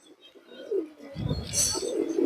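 Large pigeon with red eye rings and prominent cere cooing up close, a low throaty rumble building after a quiet start with some higher chirps above.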